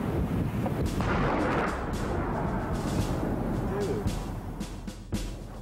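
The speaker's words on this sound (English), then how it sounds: "we're gonna see if the rocket they were gonna launch at us was actually would have been effective and efficient by launching it just downrange" A captured rocket is launched downrange in Afghanistan, a loud roaring rush that fills the first seconds and then thins into a rumbling, windy trail, with a few sharp cracks near the end.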